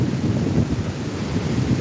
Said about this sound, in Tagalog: lumalakas na naman po ang ulan